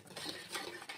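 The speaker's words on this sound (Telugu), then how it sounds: "బాగా కలుపుకోవాలండి. ఒక హాఫ్ మినిట్ వరకు మంచిగా కలుపుకోవాలి." Cake batter with vanilla essence is stirred in a bowl for an eggless vanilla cake, a quiet, close scraping and clinking of a spoon against the bowl in quick repeated strokes.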